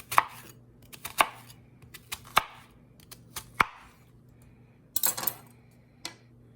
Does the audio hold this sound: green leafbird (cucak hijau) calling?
no